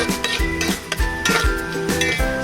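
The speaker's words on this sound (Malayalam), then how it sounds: "സവോള നല്ലോണം മൂക്കണ വരെ നമ്മളിങ്ങനെ ഇളക്കണം കേട്ടോ" Chopped onions stirred in a pan for sardine curry in a Kerala kitchen, with repeated metallic scrapes and clinks of a spoon against the pan in a quick, uneven rhythm, close and fairly loud.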